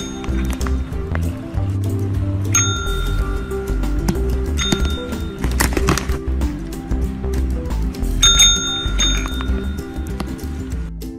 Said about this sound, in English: This cat knows to ring the bell to get food.